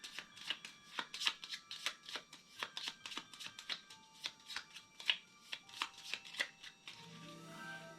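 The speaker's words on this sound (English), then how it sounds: "So now we should have shuffled." A deck of cards from a ghost-themed board game is shuffled up close, its quick riffles and taps coming in a steady rhythm of sharp ticks for several seconds before trailing off into quiet.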